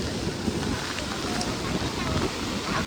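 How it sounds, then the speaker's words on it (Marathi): Strong wind roars steadily and loudly across the microphone at a rain-swollen river bridge during a monsoon downpour, a constant broadband rush with no letup. "लय वारा सुटलाय टॉपचा डायरेक्ट"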